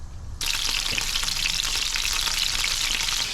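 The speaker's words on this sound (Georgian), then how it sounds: "დავდებთ ქათმის ბარკალს შესაწყავად" Chicken thigh hits a hot pan and begins frying, a sudden onset of loud, steady crackling sizzle that continues close up without any talking.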